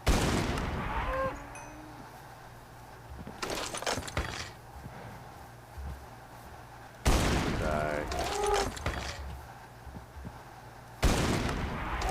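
A cow in the Towncraft video game moos in two short calls, one near the start and one midway. Several loud bursts of impact noise and quieter background sounds come between them.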